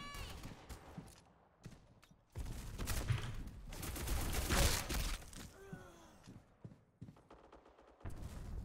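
Rapid bursts of gunfire in the video game Black Squad crackle in dense volleys, loud and close, with brief lulls between flurries.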